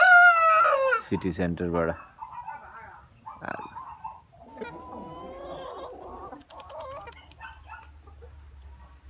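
Village chickens crow and cluck close by, a loud crowing call at the start followed by scattered clucks and squawks, with someone talking intermittently over them.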